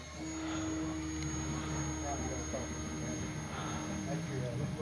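An E-flite Cherokee RC airplane takes off from a grass field, its electric motor a steady, moderately loud whine throughout, with a person talking over it.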